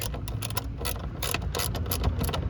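A hand ratchet tightening the screws on a car's mass air flow sensor, close rapid clicking in quick bursts, no talking.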